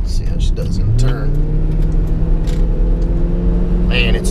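A 2003 Ford Mustang GT, lowered, driving through a turn, its engine droning steadily with a rising tone early on, close and continuous beneath a speaking voice.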